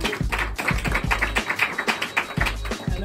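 Steady crowd applause for a roast-battle contestant mixes busy hand clapping with regular low thumps like stomping, loud and sustained with no talk over it.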